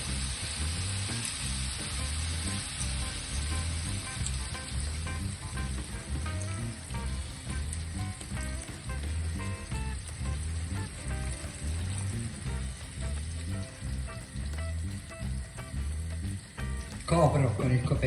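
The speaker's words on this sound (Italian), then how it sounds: "Evaporato l'alcol, aggiusto di sale e aggiungo del brodo vegetale." Sliced onions cooking in a pan after vegetable broth is added, a steady bubbling sizzle with a pulsing simmer rhythm throughout, ending in a brief clatter near the close.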